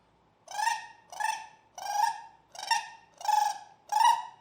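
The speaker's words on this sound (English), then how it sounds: "I call it just a similar chuckle, kind of like a mallard does." Six evenly spaced short, bright calls come from a wood duck call blown with a rolled tongue for a chuckle, each a buzzy nasal burst, close and clean in a quiet room.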